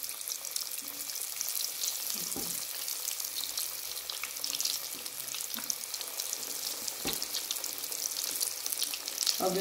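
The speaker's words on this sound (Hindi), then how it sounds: "हमारा ऑयल गर्म हो गया, मैं इसके अंदर ये रोल डालूंगी" Chicken and potato bread rolls fry in hot oil over a low flame, giving a steady, close bubbling sizzle with a couple of soft clunks from the pan.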